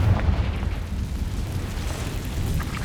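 Confringo fire spell explosions in Hogwarts Legacy, a dense low booming roar with bursts layered over each other, loud and continuous with no talk.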